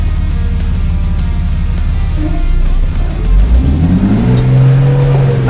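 A Jeep engine on the rocky Moab Rim trail, steady and close, revving hard midway as the vehicle climbs over rock, then settling into a strained, rising drone.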